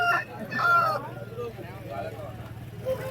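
A chick calls at a Vijayawada poultry market, giving a few short, bright cries close by while people talk over it.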